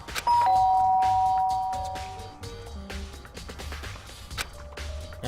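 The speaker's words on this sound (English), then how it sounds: "I press the doorbell." A doorbell chime rings once in the video game Danganronpa: Trigger Happy Havoc, a clear sustained tone followed by a short run of softer game notes over quiet background music.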